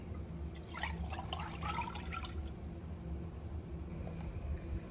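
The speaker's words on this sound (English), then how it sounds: "I'm going to go ahead and add my coconut milk to my saucepan" Coconut milk pours into a saucepan on a stovetop for cornmeal porridge, a soft close liquid trickle and splash lasting a few seconds over low background hum.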